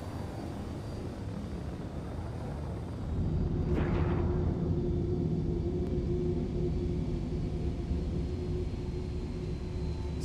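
In a flight combat video game, a jet afterburner gives a steady, heavy roar that swells louder about three seconds in, with a brief whooshing burst soon after, and no voices.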